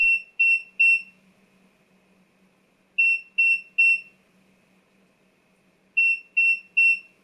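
Three quick high-pitched electronic beeps from a 2000W portable power station warning of 10% battery, repeated in three evenly spaced groups, with a faint low hum underneath.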